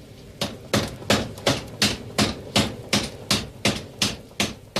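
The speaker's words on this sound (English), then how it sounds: "In this village forge, the heated metal is placed under a hammer" Forging hammer in a village forge striking heated metal, a steady run of about a dozen loud, evenly spaced blows, each ringing briefly before the next.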